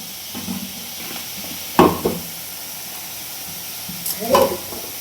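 Okra (lady's finger) frying in a pan, with a low steady sizzle broken by a few sharp scraping stirs of a spatula. The sound is close and has no talk over it.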